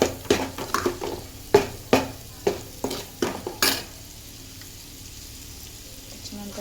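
Masala spices are stirred through hot oil in a pan, with a string of sharp, rhythmic spatula scrapes over a bright sizzle, then the frying carries on alone and quieter.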